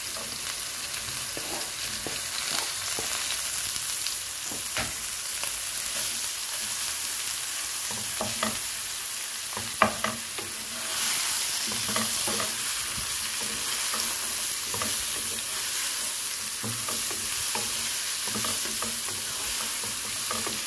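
Bottle gourd added to mung bean soup cooking in a pot, a dense continuous sizzling hiss with stirring scrapes and occasional clinks, close and steady throughout.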